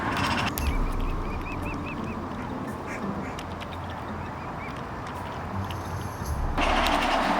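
Swans, including watchful parent birds, give short nasal honking calls while being hand-fed clover outdoors. A few soft calls rise over a steady rustling background of wind and water. There is no clear talk.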